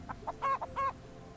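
Chickens in the farming city-builder game Bastide cluck in a few short, close bursts, two louder calls standing out over quiet background ambience.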